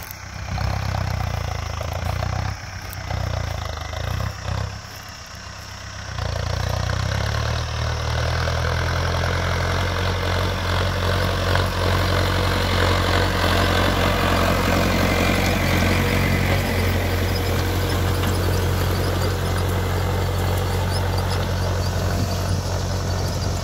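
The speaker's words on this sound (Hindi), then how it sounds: "और ये आवाज़ सुन लो ट्रैक्टर की," A Mahindra Arjun Novo 605 DI tractor engine, rated 50 HP, runs loud and steady at close range, with a deep droning rumble that is briefly uneven early on and then holds constant with no talk.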